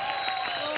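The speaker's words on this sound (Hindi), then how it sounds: "एक बार कृष्णा के लिए जोरदार ताली हो जाए।" A studio audience at a comedy talk show breaks into sustained applause, a dense, even wash of clapping that fills the whole short moment without pause.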